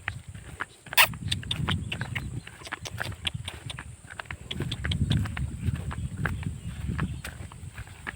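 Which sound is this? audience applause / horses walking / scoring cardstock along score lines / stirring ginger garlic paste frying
horses walking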